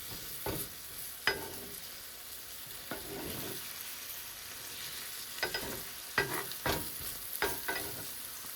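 Onions sauté in a pan for French onion dip: a steady sizzle with scattered scraping and stirring knocks, close and alone without talk.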